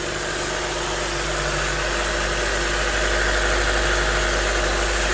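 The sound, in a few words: Honda Civic EF sedan engine idling, exhaust sound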